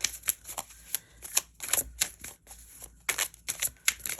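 A Hoodoo Tarot card deck being shuffled up close, with quick riffling bursts of card flutter repeating in an uneven rhythm over a quiet background and no speech.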